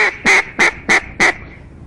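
A duck call is blown in five evenly spaced, loud, nasal quacks during a talk on hunting and competition calls, each burst short and sharp, with a brief pause after the last.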